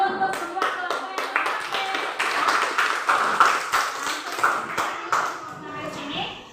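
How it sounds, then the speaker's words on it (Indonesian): A school class applauding all the student groups: children clapping in an uneven, lively patter close by, with kids' voices chattering over and between the claps throughout. "Beri tepuk tangan dulu untuk semua kelompok yang"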